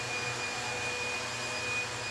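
A pump runs steadily in the background beside an Arduino crankshaft-signal setup for a BMW X5, a constant broadband mechanical whir with a faint steady tone and no talk.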